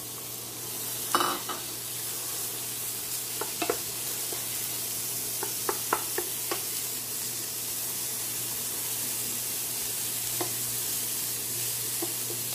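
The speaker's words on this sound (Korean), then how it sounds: "다시 불을 켜시고 호박을 넣겠습니다." Zucchini stir-frying in a hot pan while noodle toppings are prepared, giving a steady loud sizzle throughout with occasional scraping and stirring clicks, and no talking.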